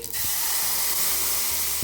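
A blended peanut mixture hits a hot oiled pot for amti, setting off a loud, steady hiss and sizzle that lasts about two seconds with a couple of soft clunks.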